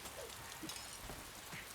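Steady rain falls in Piofiore: Fated Memories, a faint, even hiss of drops with low rumbling underneath and no voices.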